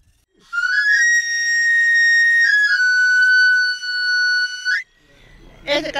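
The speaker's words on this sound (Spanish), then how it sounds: "recorre las calles de Morelia silbando para que las amas de casa le devuelvan vida a tijeras y cuchillas" A street knife sharpener in Morelia, Mexico blows a loud, sustained multi-tone whistle. It glides upward, holds steady for several seconds, then drops and cuts off, with a brief noisy rustle at the end.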